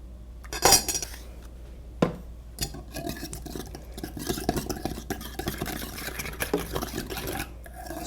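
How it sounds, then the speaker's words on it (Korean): A tomato marinade with salt and maple syrup is mixed with a utensil in a bowl, giving a few sharp clinks and then steady scraping and swishing, close and fairly quiet. "잘 섞어 주시고요"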